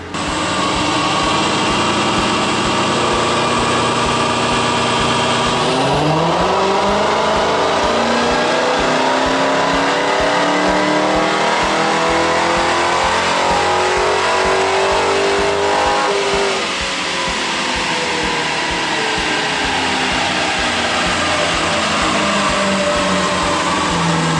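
A car with a 2.0-litre four-cylinder engine pulling hard at full throttle, loud and close, the engine note climbing steadily through the gears with a brief shift drop before rising again, no talk.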